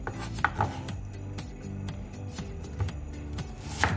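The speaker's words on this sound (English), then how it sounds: "You cut a lot of onion like that." A knife cuts onions on a board in quick, irregular strokes, with soft taps and scraping rubs close by and a steady low background hum, and no speech.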